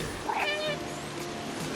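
A cat meows repeatedly in the video game Stray, a few clear rising and falling cries close up over a steady ambient game background.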